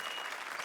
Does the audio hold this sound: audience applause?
yes